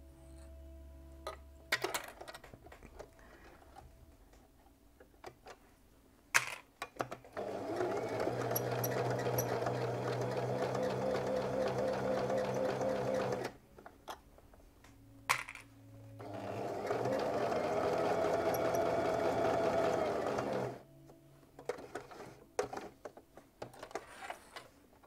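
Domestic sewing machine stitching fabric in two long bursts of steady whirring needle clatter, close and fairly loud, separated and framed by quieter handling clicks and rustles.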